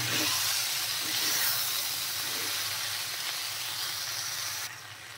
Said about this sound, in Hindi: अब इन सबको अच्छे से मिला के 2 से 3 मिनट तक हम लोग लो टू मीडियम फ्लेम पे भुनेंगे।